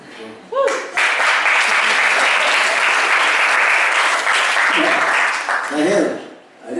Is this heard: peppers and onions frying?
no